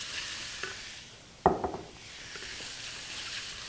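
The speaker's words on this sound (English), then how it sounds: "And now it's time to saute our buttery shrimp with the barbecue spice." Shrimp sautéing in butter with barbecue spice, a soft background sizzle broken by one sharp utensil clatter and a few lighter scrapes near the middle, with no voices.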